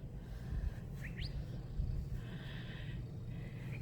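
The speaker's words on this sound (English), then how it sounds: "That was a curve-bill thrasher. That's one of the birds that lives here in the saguaro forest." A curve-billed thrasher calls in a saguaro forest, giving a couple of short, sharp rising chirps followed by a thinner whistled note, faint and somewhat distant over steady low wind rumble.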